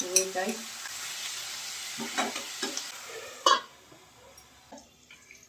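Chopped garlic, ginger and onion fry in a pan for vegetable spring rolls, giving a soft sizzle broken by several brief stirring scrapes and clinks, with a single short spoken word.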